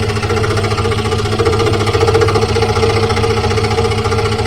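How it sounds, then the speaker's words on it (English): A scroll saw cutting wood makes a dense, rapid buzzing rattle. The fast reciprocating blade chatters steadily and loudly throughout, with no speech. "scroll saws like to cut in whatever direction they want"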